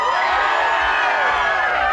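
Loud, sustained cheering and whooping from an outdoor Guyana Day dance competition crowd in South Plainfield, NJ, rising for a dancer, with many overlapping voices shouting near and far.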